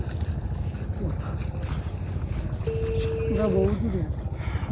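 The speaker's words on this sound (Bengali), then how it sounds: "ওই যে তো ওখানে তো নৌকা আসছে" A boat on a river produces a low, continuous rumbling drone nearby while people talk over it, and a brief tonal call cuts in near the end.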